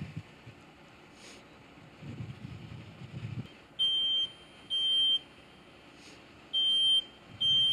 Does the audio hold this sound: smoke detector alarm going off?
yes